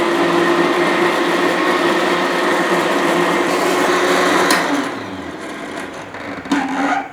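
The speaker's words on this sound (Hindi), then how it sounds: "अब ढेर सारी मैं इसमें डालूँगी आइस, और अब फिर से ब्लेंड करूँगी" Electric blender whirring loudly as it blends grape juice with ice, a steady grinding roar for about four and a half seconds, then winding down with a few brief clattering bumps.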